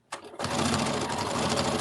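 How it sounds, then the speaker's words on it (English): A sewing machine stitches 6-inch quilt squares corner to corner for a rag quilt, starting after a brief click and then running steadily and loudly with a fast, even mechanical chatter. "We're going to sew corner to corner."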